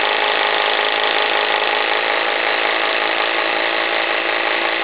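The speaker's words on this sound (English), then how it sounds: "since this is a single cylinder engine, I can't really stop it or reverse it" A single-cylinder live steam engine runs aboard a Diana launch, fed by a vertical fire-tube boiler, giving a steady, close, continuous mechanical hiss and whir with no clear pauses throughout.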